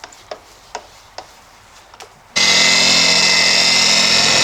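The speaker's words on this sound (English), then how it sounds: "But starting with the cutters and the harshest pad." Several sharp taps come first, then a car polisher with cutting compound and a harsh pad on roof paint of an HSV VR Senator starts up into a loud, steady whir.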